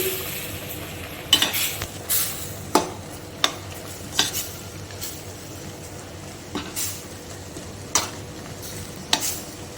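Prawns are stirred with spice powder in a pan for a coastal Kundapura-style prawn sukka, with a low steady sizzle under intermittent scraping and clinks of a spoon against the pan, close and moderately loud.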